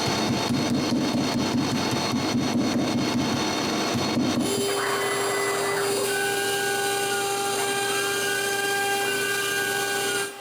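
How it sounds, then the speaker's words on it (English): A router fitted with a 1 mm bit cuts a plywood shape held on melamine, a steady high whine with a sustained tone running loud and near throughout, rougher and grittier in the first few seconds, no voices. "I cut the shape with a 1 mm router bit"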